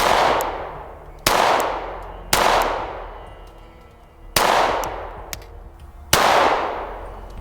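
Handgun fired quickly at a range, five sharp loud shots with ringing decay, spaced unevenly about a second apart and heard alone without talk.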